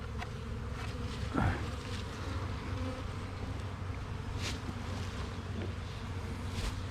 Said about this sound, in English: There's a number of bees in the air now.